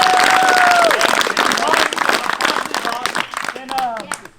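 Crowd applause at an outdoor hang gliding fly-in at Horseshoe Bend Recreation Area, dense clapping and cheering close by, with whistle-like tones and voices mixed in before it thins out.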